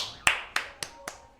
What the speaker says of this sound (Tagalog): Pumalakpak din kami dito eh